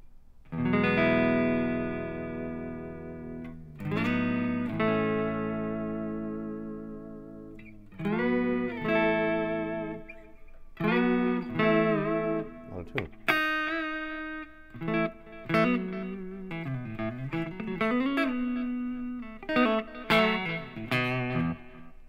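An electric guitar played through a Line 6 Helix with a long reverb effect, sustained chords and single notes ringing out with lingering decay tails, followed by quicker picked phrases with bends.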